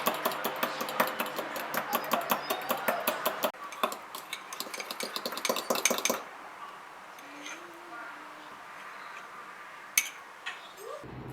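Coffee mug cake batter with flour, baking powder and coffee being stirred in a cup, a quick run of close scraping, clinking strokes for about six seconds, then a quieter pause with a few faint knocks.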